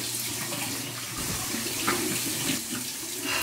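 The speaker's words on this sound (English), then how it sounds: "All right, here we go, cold water rinse." A bathroom tap runs steadily for a cold water rinse after a wet shave with a safety razor, water splashing into the sink in a constant close hiss with no talking.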